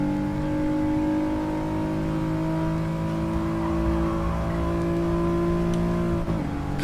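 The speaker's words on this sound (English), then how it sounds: "I love the sound of this car." A race car engine in a sim racing video game revs in a smooth sustained drone, pitch climbing and shifting steadily through corners, then briefly dipping near the end; no talk over it.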